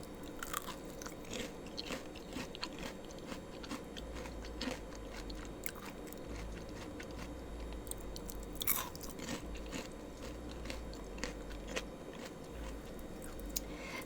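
Crispy fried onion rings are bitten and chewed close up, giving repeated crunchy bites and wet chewing in an irregular rhythm with no talking.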